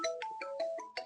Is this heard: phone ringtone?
yes